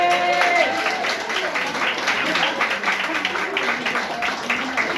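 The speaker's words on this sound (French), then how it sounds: "Applaudissez" Wedding guests clapping together at a reception, a moderate, fairly steady patter of applause with voices and chatter mixed through it.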